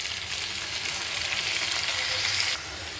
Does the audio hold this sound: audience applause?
no